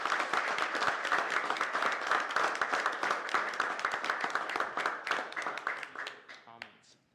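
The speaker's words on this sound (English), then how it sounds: "that deserves a round of applause for them" A county council meeting audience applauds to honor Zillis Dairy, a family dairy with a quarter century of raising cows and kids, with dense steady clapping that fades out toward the end.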